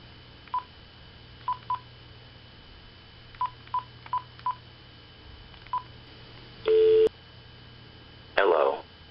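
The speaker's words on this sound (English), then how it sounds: "So we can just dial their access number." Telephone keypad DTMF tones dial a Twilio access number, about ten short evenly spaced beeps over a faint line hum, followed by two longer, louder bursts of call-connection tone.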